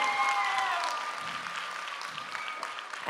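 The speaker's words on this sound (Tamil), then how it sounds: "அதுக்கே பெரிய கைத்தட்டல் உனக்கு" An audience gives dense, sustained applause after an Isaithullal dance performance, the clapping loud at first and gradually easing, with a brief excited voice at the start.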